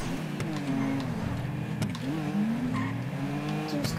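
A car in GTA 5 speeds along with a steady engine drone that rises in pitch as it accelerates, plus a brief tire squeal, while people talk over it.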